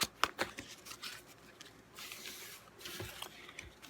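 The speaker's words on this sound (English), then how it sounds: "so now that we shuffle the cards" Playing cards shuffled by hand at a blackjack table, a quiet run of soft riffling flutters and brief snaps in two bursts, near and faint with no talk.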